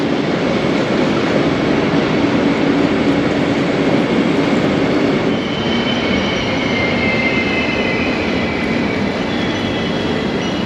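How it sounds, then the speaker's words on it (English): A regional train hums and rolls steadily nearby at a station platform, a continuous loud drone with faint high wheel squeal, no talking. "It's a regional train, so it would be something not unlike this one here"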